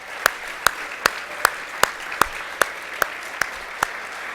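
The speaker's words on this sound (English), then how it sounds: "How about one more round of applause for all of today's winners?" Audience applause at an alumni awards luncheon in a ballroom, honoring the day's winners: a steady wash of crowd clapping with one loud, close clapper striking sharply about every half second.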